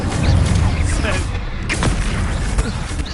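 An Incendio fire spell in Hogwarts Legacy bursts amid combat, a loud rumbling whoosh with booming low end and sharp impact cracks scattered through a steady, noisy battle din.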